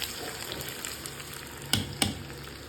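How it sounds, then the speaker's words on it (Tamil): Hot tempering poured onto avial, a mixed vegetable dish, in a quiet kitchen: a soft background hiss broken by two sharp, close sizzling bursts about a quarter second apart. "இப்போ இதை நம்ம அவியலில் போட்டுடலாம்."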